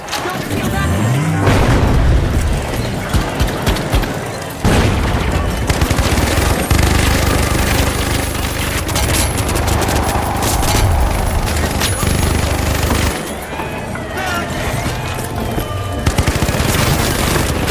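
Minigun fire and explosions in the shooter game The Finals, with dense sustained bursts of rapid gunfire and heavy booms filling most of the stretch, loud and continuous apart from a brief lull.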